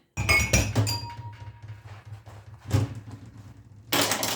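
Glasses clink and clatter as a dishwasher is unloaded in a home kitchen: sharp bright knocks at the start, another cluster of clinks midway, and a busier rattle of glassware at the end, with quieter handling sounds in between.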